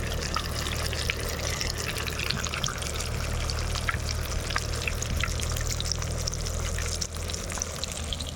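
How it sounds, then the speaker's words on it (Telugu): Fish fries in hot oil in a home kitchen, giving a steady, close sizzle and crackle throughout with no talk. "ఫ్రై అవుతుంది చూడండి."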